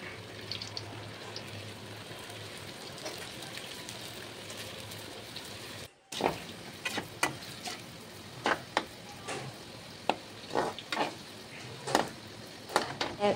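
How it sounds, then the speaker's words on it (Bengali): Palm-fruit fritters (taler bora) frying in oil give a dense, rain-like sizzle with a brief cut partway through, followed by irregular crackles and pops over a softer bubbling bed. No voices are heard. "দেখো একদম লাল লাল করে সব ভেজে নিয়েছে।"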